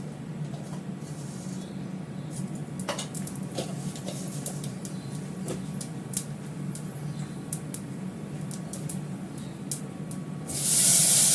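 Tomato frying in ghee over a panch phoron five-spice tempering for a chutney gives a steady, close sizzle that holds evenly throughout, then swells into a louder hissing burst at the very end.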